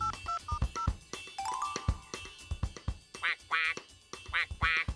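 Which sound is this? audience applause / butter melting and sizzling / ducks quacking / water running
ducks quacking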